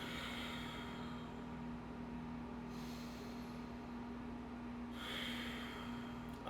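Slow breathing during a yoga session, with two soft, drawn-out breaths through the nose a couple of seconds apart over a steady hum of room noise.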